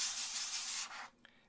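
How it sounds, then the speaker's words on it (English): A spray bottle mists extra water onto a watercolor paint plate in one steady hissing burst lasting under a second, close and alone, then cuts off with a faint tap. "just spray a bit of extra water on there"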